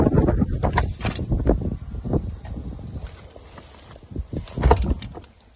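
Gusts of wind buffeting the microphone, producing loud low rumbling bursts that rise and fade unevenly, easing toward the end.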